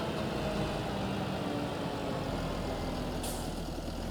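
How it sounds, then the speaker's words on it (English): A tractor hauling a trailer in a farming simulator game, its engine a continuous rumbling drone at an even level throughout, with a brief hiss near the end and no talking. "I will take the tractor and the trailer to the oil mill"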